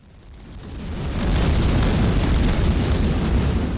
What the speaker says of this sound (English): I just spam them with missiles, man.